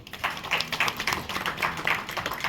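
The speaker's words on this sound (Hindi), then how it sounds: "इस बात पर तालियां बजनी चाहिए।" Scattered clapping from a small audience at a Hindi literary book talk, separate claps at an uneven pace forming a light, moderately quiet round of applause.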